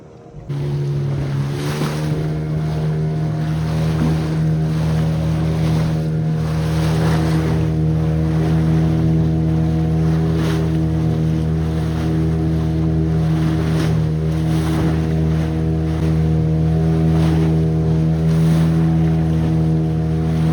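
A motorboat ride where Karli creek meets the Arabian Sea, a loud steady engine drone with continuous wash of water and wind buffeting the microphone, no voices.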